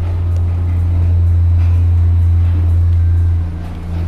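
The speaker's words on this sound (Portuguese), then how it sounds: "agora tá passando um caminhão" Heavy truck rumbling past in GTA 5, a loud, steady low-pitched engine drone that eases off near the end, with faint background game sounds.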